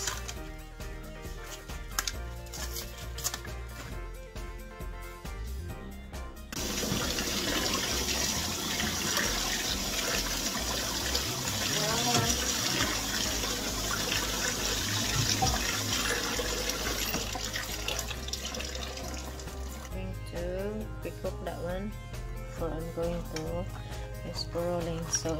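Tap water runs into a kitchen sink as a large head of cabbage is washed, a steady rushing gush lasting over ten seconds with quieter handling noises before and after.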